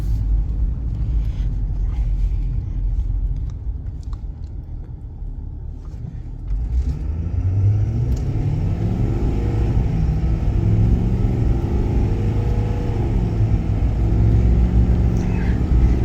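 Ford Powerstroke diesel truck accelerating along a straight stretch of road, a steady low engine rumble and road roar from inside the cab that builds slightly in pitch as it pulls.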